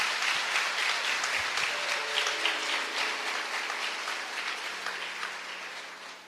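Sustained applause from a crowd, dense steady clapping filling the whole stretch and tapering slightly toward the end.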